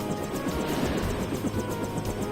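Helicopter in the video game Deus Ex, a steady close rotor drone with rhythmic blade chop sustained throughout, with no talk over it.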